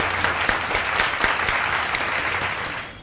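Audience clapping at a prize ceremony as a certificate is handed over, a dense, loud burst of many hands that holds steady, then thins out near the end, with no voices over it.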